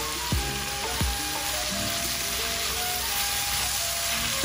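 Bilimbi pickle ingredients with salt and turmeric sauté in a pan with a steady close sizzle, broken by a few sharp utensil scrapes and knocks from stirring near the start.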